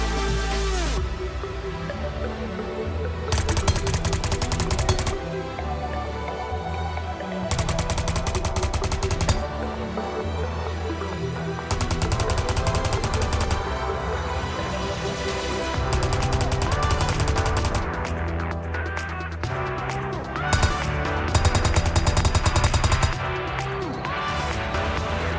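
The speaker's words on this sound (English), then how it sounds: "This beta version of the lead spitter uses the light machine gun assets as a placeholder." Fortnite beta Lead Spitter firing in a video game, using light machine gun sounds: loud, sustained bursts of automatic fire in repeated long volleys with short gaps, layered over a dense background mix.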